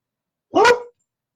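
A 13-year-old dog lets out one short, sharp bark indoors, close and fairly loud, with silence on either side.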